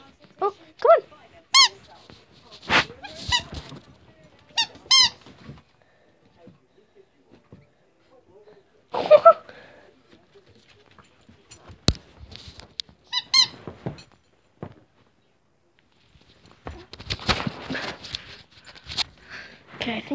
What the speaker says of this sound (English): Where's the squeaky toy?